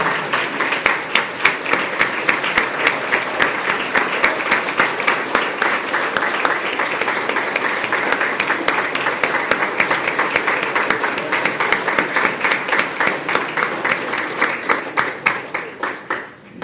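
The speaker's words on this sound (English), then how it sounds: "Please join me in a round of applause" A large audience applauds at a university athletics hall of fame ceremony, dense sustained clapping that fills the hall evenly before slowly tapering off at the end.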